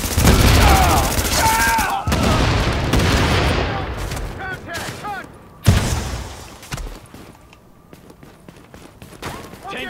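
Suppressive gunfire in the video game The Division crackles in dense bursts, loud and close, with booming shots, then thins out toward the end while game voices speak over it.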